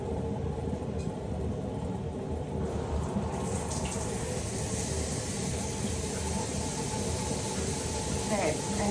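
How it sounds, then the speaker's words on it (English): A shower running in a bathroom, a constant hiss of spraying water that grows brighter partway through, with someone talking over it. "Let's just take a little bit of a vitamin C shower."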